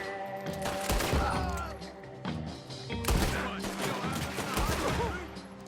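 Rapid gunfire from the video game Red Dead Redemption 2, a loud sustained fusillade of overlapping shots and bursts that runs through the whole stretch, with game voices and music mixed underneath.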